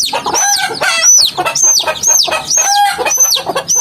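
Chickens clucking and calling in rapid, overlapping bursts, with repeated rising squawks at close range; the birds are green-and-black berugo fowl.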